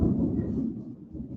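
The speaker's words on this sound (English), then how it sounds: "Ooh, there's some thunder." Low rumbling thunder rolls through during a heavy rainstorm outdoors, a broad, steady grumble that stays fairly loud before slowly easing off, with no voices over it.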